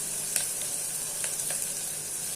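Finely ground tomato goes into a hot tempering of onion, green chilli and curry leaves, making a continuous close sizzle with a couple of brief sharp crackles.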